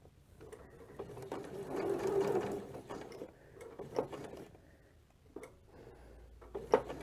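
A sewing machine stitches quilt binding in a steady mechanical whir that rises and fades, followed by a few short clicks and clunks as the needle and presser foot are adjusted, with no talking.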